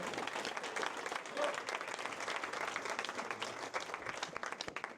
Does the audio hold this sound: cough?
no